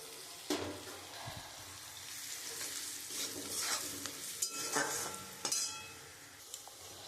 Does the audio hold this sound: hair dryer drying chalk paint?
no